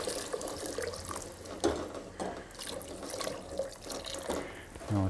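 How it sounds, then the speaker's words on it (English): Vegetable stock pours into a pot of Thai pumpkin and coconut curry, a steady close splashing and gurgling of liquid that runs for several seconds. "we'll add some vegetable stock."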